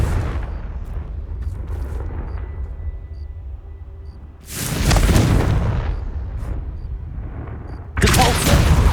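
A Confringo blasting spell goes off in the video game Hogwarts Legacy: two loud, close booming bursts roughly three seconds apart, the first long and rumbling, the second sharp, over a steady low game rumble.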